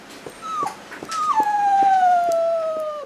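A sick dog that had been unresponsive for days whimpers and whines on hearing its owner's voice, a thin, high drawn-out cry with brief yelps, close and fairly loud.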